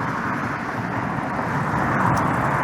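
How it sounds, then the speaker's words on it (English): Steady, dense roar of car traffic on a busy street, a continuous close wash of engine and tyre noise with no gaps and no voices. "I'm having to shout to hear my own voice over the car noise here."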